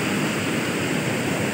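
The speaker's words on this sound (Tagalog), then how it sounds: "saka yung tunog ng awit ng talagpas ng mga tubig" Waterfall water rushing steadily, a loud, dense, continuous roar with no breaks or other sounds.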